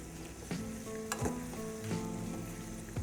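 Capsicum biryani ingredients sizzle in a hot frying pan while being stirred with salt. A steady frying hiss runs throughout, and the spatula scrapes the pan in a few distinct strokes.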